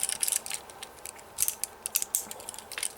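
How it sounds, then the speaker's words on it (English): Small clicky ratchet joints on a Transformers War for Cybertron Deluxe Class Bumblebee toy figure give off a quick run of light, crisp plastic clicks at close range, with no voices. "They're just on little clicky ratchet joints."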